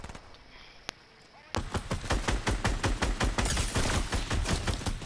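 Dense automatic gunfire from a squad match in a battle royale video game, starting after a second and a half of quiet and continuing as a rapid, steady burst of close, loud shots.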